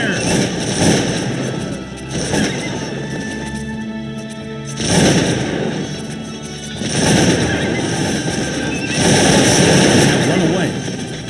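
Enemy gunfire in the strategy game Cossacks 2, Poland versus Russia, comes as dense crashing volleys and booms in repeated bursts, loud and fairly close, with a brief quieter gap in the middle.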